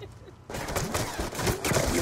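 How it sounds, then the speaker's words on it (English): A Death Machine minigun fires in the Black Ops video game, bursting in abruptly after a quiet moment as a dense, continuous, loud rattle of rapid shots. "hostile death machine spinning up"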